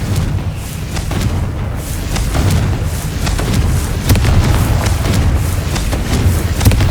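Confringo fire spells burst in a fast string of explosions in Hogwarts Legacy, dull booms and thuds piling up loudly over a rumbling battle din.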